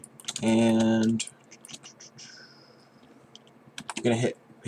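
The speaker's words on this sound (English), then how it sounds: "I'm going to hitting Control R on the keyboard." A computer keyboard pressed while rigging in Blender, a few light, close clicks between stretches of spoken voice.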